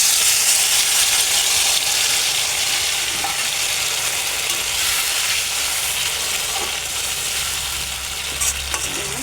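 Loud, steady sizzling of mixed mustard paste frying in a hot pan, a dense hiss that continues without a break.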